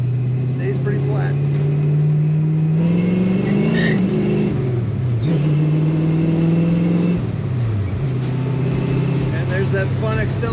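A 1967 Ford Mustang coupe with manual steering accelerating hard, its engine droning loud and close as it climbs through the revs, with a pitch dip at each gear change as it pulls up again.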